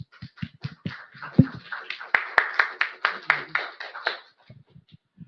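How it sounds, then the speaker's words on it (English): Scattered audience clapping for special guests at a cybersecurity industry panel workshop, a handful of distinct sharp claps building into a brief patter and then trailing off to a few last taps. "Everyone, please give them a round of applause."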